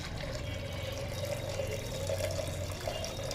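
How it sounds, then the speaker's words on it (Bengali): Water poured steadily into a cooking pot for fish head curry with chana dal, a continuous, even splashing stream at moderate level with no voices. "তো এখন আমি পরিমাণ মতো পানি দিয়ে দেব"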